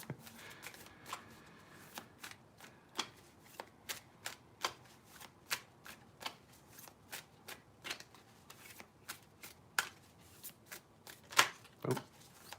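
A deck of Tarot of the Witches cards is shuffled by hand, giving a dry, uneven run of crisp riffling snaps close by, with no one speaking.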